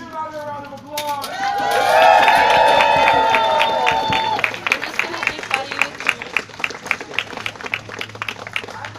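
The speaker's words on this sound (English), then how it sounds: "Give another round of applause." Crowd at an outdoor pipeline protest bursts into loud cheering and sustained applause, then settles into a steady rhythm of clapping that continues to the end, with some voices mixed in.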